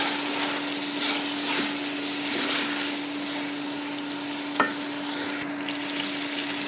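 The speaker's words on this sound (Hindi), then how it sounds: "मीडियम आंच पे हम इसे भूनने लगाते हैं, भूनते अच्छे से भूनेंगे" Aloo gobhi frying over a medium flame, a steady close hiss of sizzling oil with a constant low hum beneath and an occasional stirring clink.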